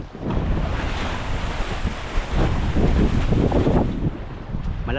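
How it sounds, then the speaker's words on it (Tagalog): Heavy waves roll and break around a boat on the West Philippine Sea as strong wind buffets the microphone in a steady, loud roar with surging swells. "Malalaki ang alon mga amigo."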